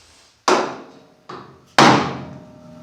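Three sharp metallic hammer taps land against a flange during outer cowl panel replacement, close and loud and spaced unevenly, each ringing briefly before fading.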